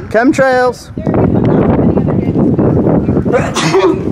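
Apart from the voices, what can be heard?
sneeze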